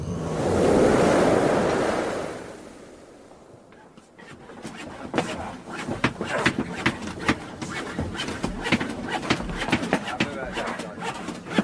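Ocean swell sound effect from a radio drama set at sea aboard a sailing ship, a loud rising wave surge that fades, then choppy splashing water with creaks and voices over it.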